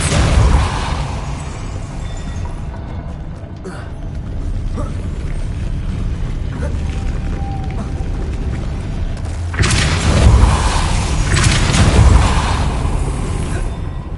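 Depulso spell effects from Hogwarts Legacy: a sustained rumbling whoosh with mechanical creaks and a burst of louder booming impacts near the end, dense and loud throughout.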